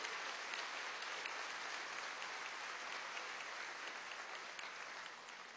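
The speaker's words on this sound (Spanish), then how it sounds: "Un aplauso a nuestros hermanos del Gran Polo Patriótico." Steady, dense applause from a large crowd at a PSUV party congress in Venezuela, held at an even level throughout with no speech over it.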